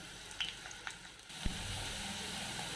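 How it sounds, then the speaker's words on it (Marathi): Sliced onions sizzle in hot oil in a pan over a high gas flame: a steady frying hiss with a few small pops and clinks early, then a louder burst as the sizzle settles into a constant crackle. "तर आपण आता चांगला कांदा भाजून घेऊया"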